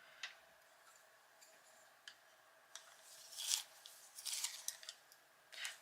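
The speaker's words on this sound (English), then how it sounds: "I'm going to sharpen my pencil." A pencil is sharpened by hand at a desk, faint scraping and ticking bursts of blade on wood, scattered and quiet, growing busier toward the end.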